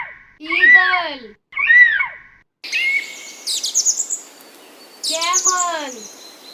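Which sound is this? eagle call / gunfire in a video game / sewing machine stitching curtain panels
eagle call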